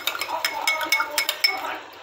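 A spoon clinks rapidly against a glass while stirring a Rooh Afza drink, a quick run of light metallic taps up close.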